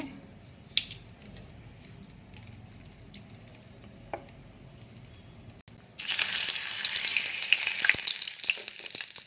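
Cardamom and cinnamon hit a hot kadai and burst into a loud, bright sizzle that stays strong and continuous after a few quiet kitchen knocks.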